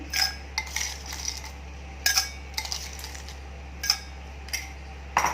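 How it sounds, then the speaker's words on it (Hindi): Crushed ice is spooned into a glass for ginger lemonade, heard as a series of sharp, close clinks and rattles in irregular bursts over a low steady hum, with no talking. "उसमें ये क्रश की हुई आइस डालेंगे, तकरीबन 3-4 टेबलस्पून"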